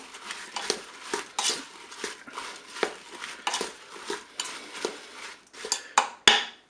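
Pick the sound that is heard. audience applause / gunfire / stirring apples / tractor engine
stirring apples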